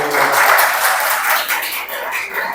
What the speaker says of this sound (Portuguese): Me aplaude aí o Senhor.